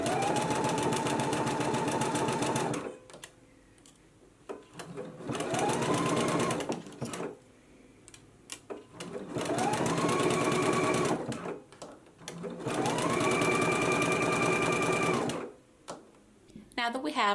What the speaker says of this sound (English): let's go ahead and stitch our neckband in place now